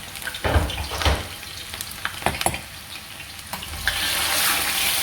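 Hot oil sizzles in a pan for garden egg sauce, a steady hiss broken by stirring scrapes and clanks, with the sizzle swelling louder toward the end, heard up close.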